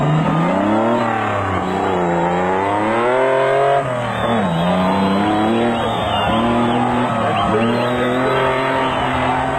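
A Toyota Land Cruiser racing in a desert off-road event, engine roaring loudly and continuously close by, its pitch rising and falling with gear changes and a brief dip around a bend.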